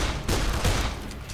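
Rapid gunfire from the zombie video game Dead Island, a dense burst of loud, overlapping shots in quick succession with no pause across the moment.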